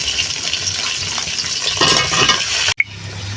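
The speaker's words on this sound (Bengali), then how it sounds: "কাঁচা পেঁয়াজ মরিচ যখন ভাজা হয়ে গেছে, এর মধ্যে আমি ফুলকপি আলুগুলো দিয়ে দেবো।" Cauliflower and potatoes fry in oil with onion and green chili, giving a continuous close sizzle with stirring clatter and a brief pause near the end.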